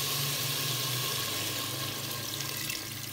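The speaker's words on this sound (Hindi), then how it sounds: "अब इसमें 2 गिलास पानी ऐड करेंगे" Water pours into a cooking pot of fried mutton for Punjabi mutton kunna, a steady close rushing splash that holds for about three seconds with no talk.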